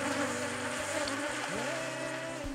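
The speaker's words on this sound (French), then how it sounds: "L'abeille africaine préfère vivre à l'écart des autres colonies, mais comme l'européenne," African honeybees buzz around their hives in an acacia forest, a steady, dense hum with shifting tones and no voices.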